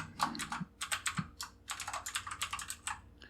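Code is typed on a computer keyboard in quick bursts of crisp key clicks with short pauses between them, close and moderately quiet, with no speech.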